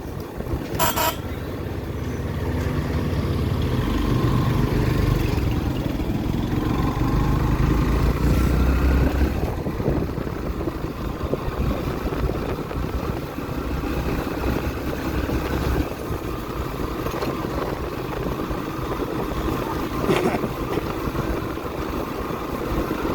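Engine noise from a motorcycle being ridden along a busy road in traffic, with wind rush, a steady drone and occasional horn toots from nearby vehicles, continuing for a long stretch.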